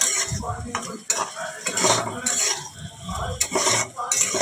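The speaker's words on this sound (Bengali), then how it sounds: "আমি পটল আর আলুগুলো দিয়ে দেবো এখন" Pointed gourd and potato pieces go into a pan for a prawn curry, with steady stirring, utensil scrapes against the pan and a low sizzle of frying running throughout, close and fairly loud.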